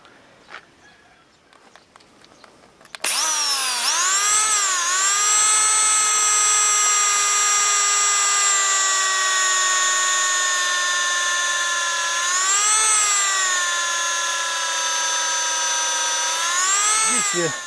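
A power drill bores holes into a tree stump being prepared for oyster mushroom growing: after a quiet start it whines loudly and steadily up close, its pitch sagging briefly as the bit bites under load.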